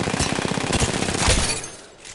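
Rapid RE45 pistol fire in an online shooter game rattles off in a fast, close burst of repeated shots, then trails into a fading echo.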